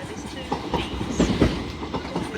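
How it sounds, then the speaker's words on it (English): An LNER Azuma class 801 train rolls into Doncaster station on the East Coast Main Line, wheels giving a rhythmic clickety-clack over rail joints amid low rumbling, fairly close. "Also arriving in now is your 11:55"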